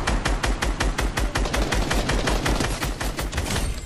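Rapid, loud weapon fire in the Fortnite video game, attributed to a railgun, rattles out in a steady stream of sharp shots for several seconds with no talking.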